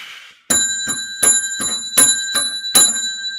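A bright metallic bell rings in a quick series of about seven sharp strikes, each with a ringing tone that carries over into the next.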